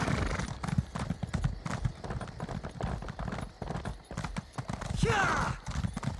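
A horse's hooves gallop in a quick, steady clip-clop across the ground in Elder Scrolls Online, close and clear, with a short whinny-like sweep near the end.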